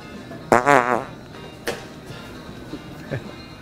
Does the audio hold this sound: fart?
yes